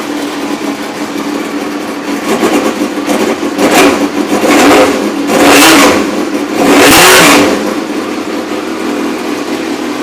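A Suzuki GSX-R1000 motorcycle with its exhaust valve fitted idles close by, then is revved in three sharp blips that rise and fall, before settling back to a steady idle.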